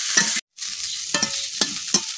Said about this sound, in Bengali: আমার ধনিয়া পাতা গুলা কিন্তু ভাজা হয়ে গেছে,